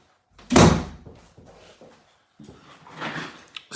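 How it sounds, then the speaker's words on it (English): A door pulled shut with a loud close thump, followed by a softer rattle and a second quieter shuffle of movement, nearby and without talk. "So let's just close this door."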